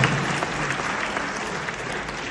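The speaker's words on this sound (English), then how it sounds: "let's continue another round of applause for that young legend" A crowd at a dance showcase claps steadily and evenly, a dense wash of applause that holds without a break.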